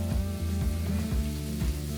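Shrimp and tomatoes sizzling in a hot frying pan, a close, steady crackle and hiss with small pops, continuous and fairly quiet, no talking.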